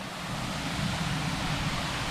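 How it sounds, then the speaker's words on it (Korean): Water flows steadily near a waterfall beside a mountain trail on Yongbongsan in South Chungcheong, a constant broadband rush that stays even and moderately loud with no talking. "물소리 들리니까 좋다"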